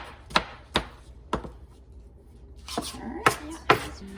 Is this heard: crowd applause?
no